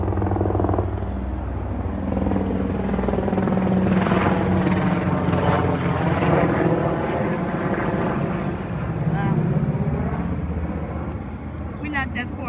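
An aircraft flies over near a military airport, a loud broad engine roar that swells and holds steady, with a person talking over it.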